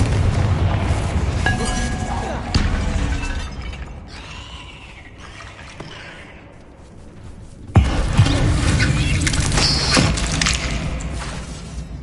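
Hogwarts Legacy Bombarda and Confringo spells going off inside a tomb, heavy booming blasts with shattering debris, a loud burst opening the clip and another sharp crash around the middle, over dense rumbling combat noise.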